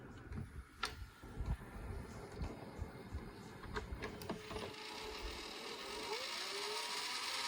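A Panasonic PV-D4743S-K VCR-DVD combo rewinds a tape, its mechanism ticking and clicking unevenly before settling into a steady, rising whir of the spinning reels, close and moderately quiet.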